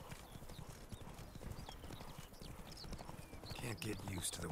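Horse hooves clip-clop at a steady trotting pace in the video game The Witcher 3, close and continuous, with a brief whinny-like tone near the end.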